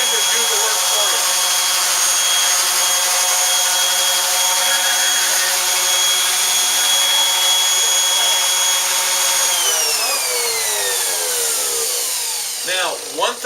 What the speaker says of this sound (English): You let the sandpaper and the sander do the work for you.